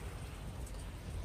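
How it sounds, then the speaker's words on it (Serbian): Freezing rain falling in cold weather, a steady dense hiss of drops that continues evenly without pause across the short stretch, with no voices present. "Ja mislim da je ledena kiša"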